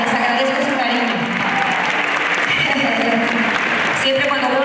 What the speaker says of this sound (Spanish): Es un aplauso, gracias.